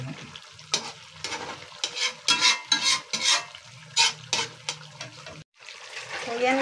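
Water poured into a simmering coconut milk snakehead fish stew with red chili, bringing splashing and bubbling along with irregular stirring scrapes in the pot. A low hum runs underneath, then a brief gap before the bubbling resumes.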